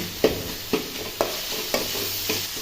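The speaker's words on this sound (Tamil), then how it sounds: "வெங்காயம் வதங்கினே தக்காளி போட்டுக்கலாம். தக்காளி நல்லா வதங்கட்டும்." Onions and tomatoes sauté in a hot pan, a continuous sizzle broken by about five evenly spaced scraping stirs, close and clear with no talk.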